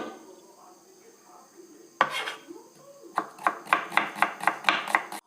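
An onion is being finely sliced with a knife. Quiet kitchen noise comes first, then a single clack, then a quick, even run of crisp close knife taps on the board, about eight cuts in a steady rhythm.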